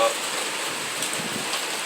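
Rain falling outdoors, a dense, even hiss of drops on surfaces that runs steadily and fairly loud, with no voices.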